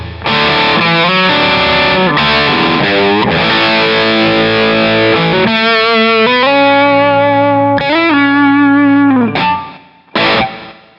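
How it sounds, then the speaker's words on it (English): A distorted electric guitar plays sustained chords and notes drenched in reverb, tails lingering and ringing out into a large, spacious wash before stopping. "A lot of reverb on that. Sounds like you're in a big hall or something."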